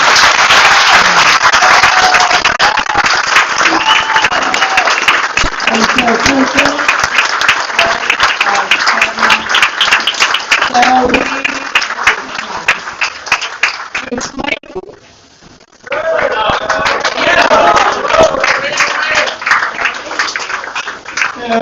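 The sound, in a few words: banquet crowd applause for football coaches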